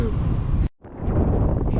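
Strong wind roars past at speed, loud and buffeting against the microphone, cutting out briefly before rushing back in just as strong.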